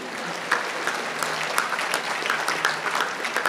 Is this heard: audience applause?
yes